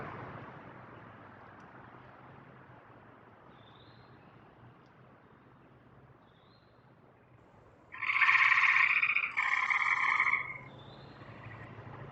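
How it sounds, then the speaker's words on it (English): A tree frog calls at a spring pond, two short loud trilling bursts late in the stretch, heard over a steady low rumble of distant traffic, with faint chirps earlier. "We're listening for the sound of a tree frog."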